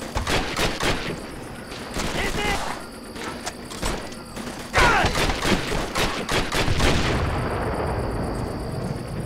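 Battle gunfire from Call of Duty: World at War – Final Fronts on PS2: dense, continuous rifle and machine-gun bursts, loud and near, with shouted soldier voices mixed in.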